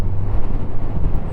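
Steady low rumbling wind buffets the microphone on a windy-day motorcycle ride out of the city toward Venice, a continuous broadband roar with no voices.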